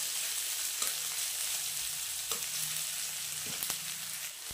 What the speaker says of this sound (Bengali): তো পেঁয়াজটা তো ভাজা ভাজা হয়ে গেছে